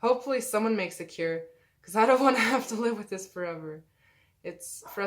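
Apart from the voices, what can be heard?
None of the usual background noises is heard.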